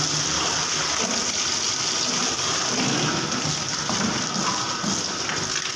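Water rushes and splashes steadily while a refrigerator is washed out, a loud continuous gush like a hose or tap running over the interior, with no talk over it.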